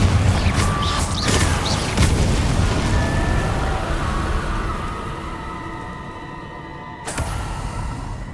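The Confringo blasting curse from a Harry Potter video game fires off a run of loud booming bursts in the first couple of seconds, then a lingering rumble fades out before one more sharp blast near the end.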